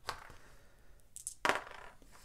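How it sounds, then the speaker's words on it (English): Two dice rolled for a Chainsaw Warrior board game give brief hard clatters: a sharp tap, a pause, then a louder rattling burst of clicks against a quiet background. "Roll 2 dice."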